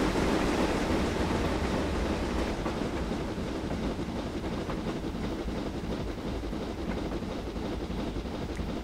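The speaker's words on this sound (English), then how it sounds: "Oh, train coming the other way." Another train rushes by the other way, heard from aboard a train hauled by a 6MT Clan Class steam locomotive on the western lines of Scotland: a loud, steady roar with rail clatter that holds throughout, no talk.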